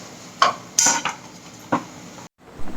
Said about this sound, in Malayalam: കുറച്ചൊന്ന് നമ്മൾ ഹൈ ഫ്ലെയിമിൽ ഇട്ടിട്ട് നന്നായിട്ട് ഇളക്കി കൊടുക്കാം.